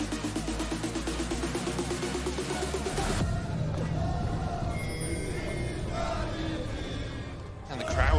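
Crowd cheering in an esports arena at an LEC League of Legends match between Team Vitality and Fnatic, a loud sustained roar filling the hall, with music first and a commentator talking over it.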